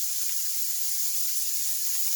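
Ground beef, half a pound, sizzling in a hot pan while Cajun seasoning goes in: a steady, close hiss of frying fat with faint crackles, continuous and even, no voices.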